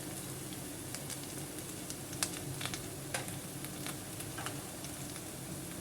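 Chicken rice fried in a pan with soy sauce sizzles in a steady, close hiss, broken now and then by sharp pops and the scrape of stirring.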